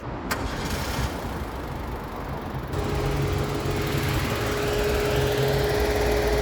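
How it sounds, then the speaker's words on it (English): A Toyota Aygo X 1.0 CVT engine cranks and catches, then settles into a steady, slightly rough, shaking idle, loud and close. "let's take this key and start it up"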